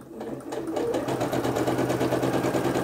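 Quilt blocks for a 20-patch jelly-roll quilt are joined into a row on a sewing machine, a loud, close, continuous motor whir with fast rhythmic needle clatter that holds steady throughout.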